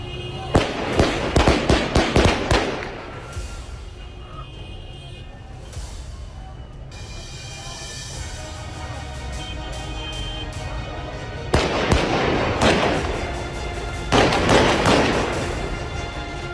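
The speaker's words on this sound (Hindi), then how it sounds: "बीच सड़क पर सीरिया की सिक्योरिटी फोर्स और असद समर्थक विद्रोहियों में आपस में गोलाबारी हो रही है।" Street clashes between Syrian security forces and pro-Assad rebels: rapid bursts of gunfire crack in clusters, loud and close, with lulls of steady rumbling noise between volleys and faint voices in the background.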